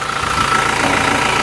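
A Toyota Fortuner VRZ with the 2GD diesel engine idling, a steady, dense mid-range rumble with a faint knocking clatter, close and continuous throughout.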